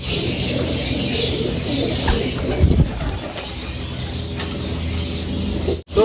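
Racing pigeons coo steadily in a loft and aviary, a dense, continuous murmur of birds close by with a brief flutter near the end.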